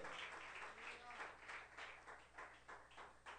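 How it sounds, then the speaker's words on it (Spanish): Congregation clapping during a church sermon, rhythmic bursts of applause in a steady pulse, moderately loud with a voice faintly mixed in. "Dele un fuerte aplauso al que vive y reina para siempre"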